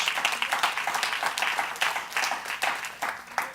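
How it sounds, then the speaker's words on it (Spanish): A church congregation claps together in praise, sharp bursts of hand claps falling in a quick, steady rhythm, moderately loud and without talk over them. "Den un aplauso a nuestro gran Dios."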